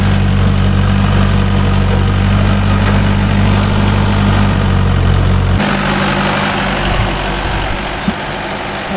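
Mahindra 575 DI tractor engine with a rotavator in a coconut grove field: a loud, steady, close diesel drone with a deep low rumble that drops off sharply partway through, then continues more thinly. No talking.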